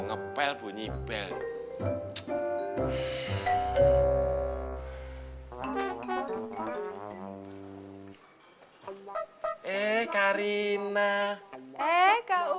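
A house doorbell chimes in a comedy scene, its ringing tones standing out briefly among music and other sounds, with voices talking before and after.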